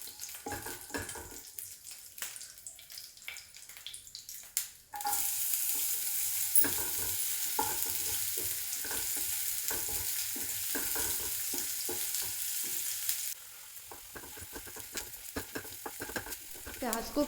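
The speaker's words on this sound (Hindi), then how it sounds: "प्याज को पिंक फ्राई होने तक हल्का सा भूंजना है" Onion and garlic frying in a pan with steady stirring: a constant close sizzle, louder through the middle stretch, with the spoon scraping and knocking against the pan throughout.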